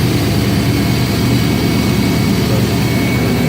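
A car heater blower running steadily in a 1967 Belair with an LS engine swap on a freezing day, a loud, constant broadband whoosh with a low rumble underneath, no talk.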